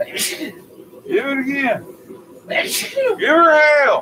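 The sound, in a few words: sneeze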